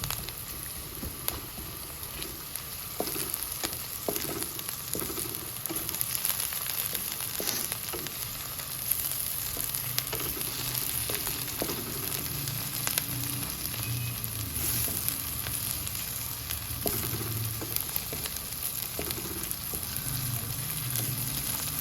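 Garlic and ginger sizzle steadily in hot oil in a pan, a dense continuous frying hiss with scraping stirs and clinks of the spoon recurring throughout, close and fairly loud.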